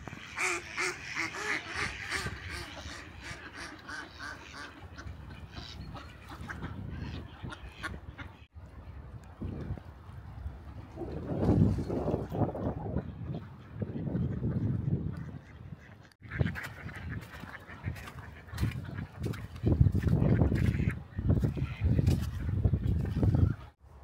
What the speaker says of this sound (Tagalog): Daming mga pato.